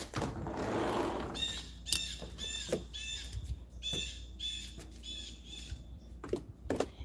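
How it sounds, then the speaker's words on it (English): Birds squawk outdoors in a run of short, harsh, repeated calls, some loud and close. A brief rushing noise comes before the calls. "Ooh, you can hear the birds"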